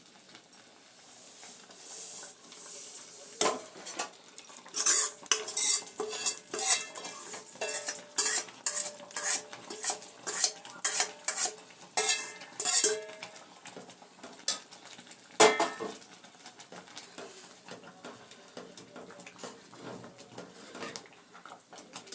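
Vermicelli is added to a pot of payasam and stirred. A spoon clinks and scrapes against the metal pot in a quick, uneven run of taps, with a faint bubbling simmer underneath.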